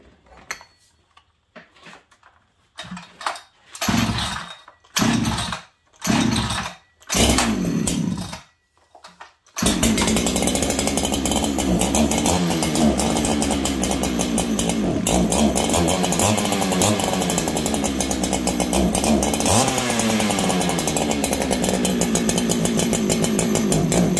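A stock Farmertec 288 kit chainsaw is pull-started with several rough bursts and sputters, then catches and runs continuously at high, loud revs close by, the engine wavering as if needing a tune.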